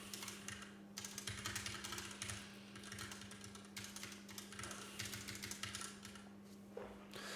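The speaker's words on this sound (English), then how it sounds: "and then you can start typing" Typing on a computer keyboard, faint rapid key clicks in bursts with short pauses, over a steady low hum.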